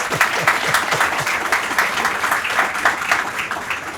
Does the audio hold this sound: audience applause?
yes